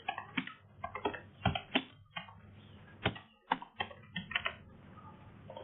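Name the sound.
typing names into an online form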